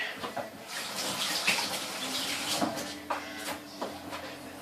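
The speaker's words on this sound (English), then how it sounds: "Just wash my hands quickly." A kitchen tap runs steadily while hands are washed under it, close and continuous, with splashing and a few small knocks over the flow and no talking.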